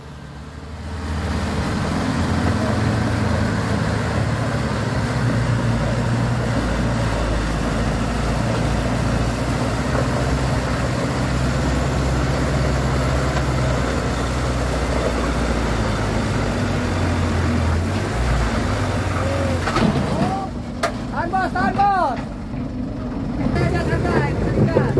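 Diesel engines of a Mitsubishi Canter and a Hino Dutro truck drone loudly and continuously as they labor up a slippery incline, with voices shouting near the end.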